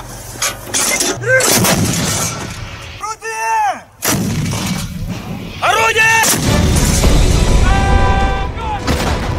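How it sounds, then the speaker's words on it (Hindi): Russian artillery shelling in Bakhmut, with heavy booming blasts repeating every few seconds, loud and near. Whining mechanical tones and rumbling noise fill the gaps between shots. "क्यों बखमूत में रूस की MSTAB तोपखाना रेजिमेंट ने यूक्रेनी सेना पर बेहद तीखे और प्रचंड हमले किए हैं"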